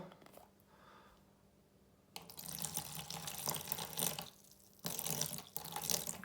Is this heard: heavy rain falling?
no